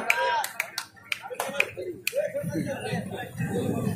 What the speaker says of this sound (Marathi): मित्रांनो टाळ्या होऊ द्या